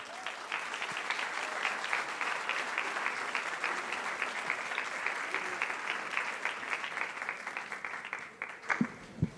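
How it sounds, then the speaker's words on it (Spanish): A church audience at an evangelism event claps a warm welcome for a guest speaker named Mark: sustained, even applause that thins toward the end, with a few sharp knocks and claps at the close. "Vamos a recibir a Mark con un aplauso de calurosa bienvenida"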